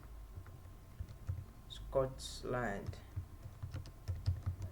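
Rapid clicking of keys on a computer keyboard as text is typed, steady and close, with a brief voice breaking in partway through.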